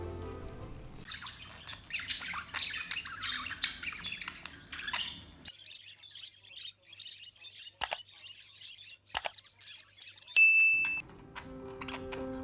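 A budgie chirps and warbles in a bright, busy burst over the first few seconds, then quieter scattered calls follow, broken by a couple of sharp clicks and a short metallic ding near the end.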